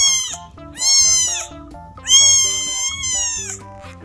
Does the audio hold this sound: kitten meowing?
yes